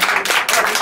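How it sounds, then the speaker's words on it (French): Studio audience applause for a guest on a talk show, a short close burst of dense clapping lasting under a second with a brief dip midway. "Donc on applaudit là pour notre ami."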